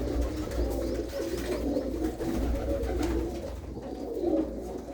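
Pigeons kept by a hobby breeder coo softly and repeatedly, low throaty calls close by over a faint background hum, with no talking.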